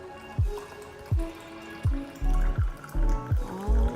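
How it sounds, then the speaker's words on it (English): Hot water poured over vegan detox soup ingredients comes in several separate splashing pours, each with a low glugging thump and a rising liquid tone, close and fairly loud, growing fuller toward the end. "Our water is ready, so pouring that over."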